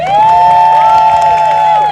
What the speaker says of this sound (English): So another round of applause for Jen.